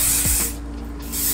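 Hairspray hisses from an aerosol can in one loud, close burst of about half a second, followed by a short pause and a second spray.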